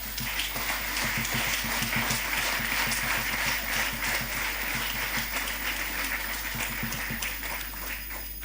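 Audience applause for awardees at a national investiture ceremony, sustained dense clapping from a large crowd, steady and moderately loud for the whole stretch.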